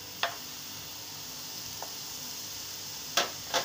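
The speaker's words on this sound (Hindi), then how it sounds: "और अपना गुड़ डाल देंगे।" Jaggery drops into hot desi ghee in a warm pan, giving a faint steady sizzle with a few brief sharp crackles and stirring scrapes, quiet and close.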